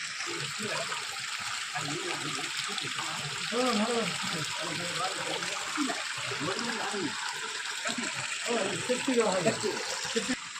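Water flows steadily with a continuous hiss from start to finish, while a person talks over it.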